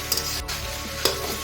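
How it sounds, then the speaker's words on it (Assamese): Rice, lentils and vegetables fry for khichdi in a pan, giving a steady close sizzle broken by a few sharp stirring scrapes. "আমি চাউল আৰু দালিখিনি 5 মিনিট ভাজি ল'লোঁ"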